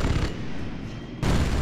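Gunfire in the strategy game Tiberium Crisis, Nod mission: a dense, loud crackling burst of shots with heavy low rumble, easing briefly in the middle and then returning at full force.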